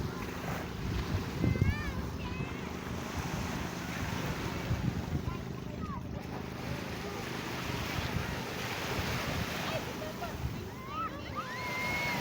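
Sea waves washing at a beach under steady wind buffeting the microphone, a continuous broadband roar with scattered faint voices and birdlike chirps in the distance.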